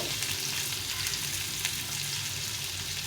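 Tomatoes and garlic fry in hot oil for a tomato chutney, giving a steady, close sizzle that stays even and continuous with no talking.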